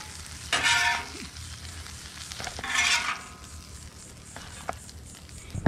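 Fish for tacos frying in oil and butter on a flat top: a soft steady sizzle that flares into two loud hissing bursts, with a few light clicks and scrapes between them.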